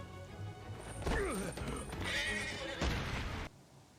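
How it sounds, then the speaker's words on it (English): A horse in an animated Vinland Saga battle episode lets out a loud, wavering neigh amid hoofbeats and crashing action, with a second whinny a little later. "Oh, the horse is down and dead!"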